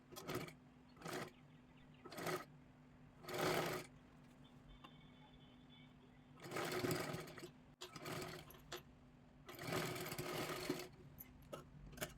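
A sewing machine stitches lace onto a blouse neckline in short, repeated bursts, a faint whirring that starts and stops several times, with a couple of longer runs between quiet pauses.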